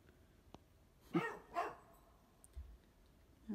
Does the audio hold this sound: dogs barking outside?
yes